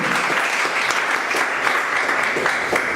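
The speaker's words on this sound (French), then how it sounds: "Est-ce qu'on peut applaudir pour les entrepreneurs économiques," Audience applause for economic entrepreneurs at an entrepreneurship session rolls on as a dense, even wash of many hands clapping, loud and close, with no talk over it.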